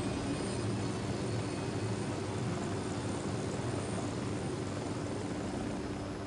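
Helicopter rotor and engine drone in the video game Ghost Recon Wildlands, a steady loud broadband roar filling the whole clip with no pauses.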